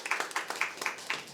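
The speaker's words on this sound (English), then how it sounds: "So let's applause for Max, please." A small audience at a sommelier competition claps for a candidate, a thin, evenly paced patter of hands in a modest room, fairly quiet and close.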